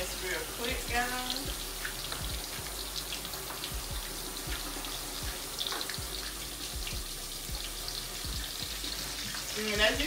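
Fish pieces frying in a pan over medium heat for smothered fish, a steady soft sizzle and crackle with occasional clinks and water sounds, while a person talks over it.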